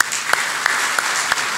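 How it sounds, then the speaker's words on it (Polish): Applause at a church honours ceremony comes through as a few sharp, regularly spaced claps over a steady hiss of background room noise, brief and fairly loud. "największe brawa dla Państwa"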